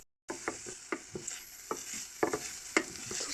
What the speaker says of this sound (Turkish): tencerede erittiğim tereyağıyla birlikte karıştırdım.